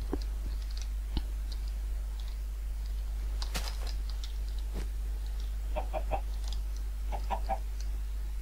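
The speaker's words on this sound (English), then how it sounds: "That is a chicken doing the moonwalk." A chicken in a Minecraft UHC game gives a few scattered short clucks, mixed with sparse clicking over a steady low hum, with no talk.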